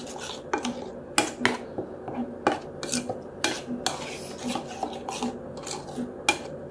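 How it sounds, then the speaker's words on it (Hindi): Salt and marinade being mixed for chicken in a bowl, giving repeated sharp metallic clinks and scraping strokes in an uneven rhythm, close and moderately loud with no talking. "हम इसको अच्छे से मिक्स करते हैं बहुत अच्छी तरीके से मिक्स करना और इसको हाथ से ना पूरी चिकन पे लगा देना"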